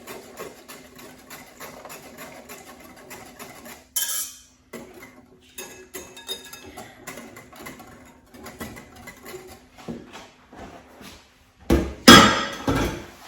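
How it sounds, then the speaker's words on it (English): A whisk beats pudding mixture in a bowl, producing rapid, uneven metallic clinks and taps in bursts, with louder scraping strikes toward the end. "keep whisking, and you can add the rest in pretty quickly"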